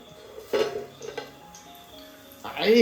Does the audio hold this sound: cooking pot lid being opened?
yes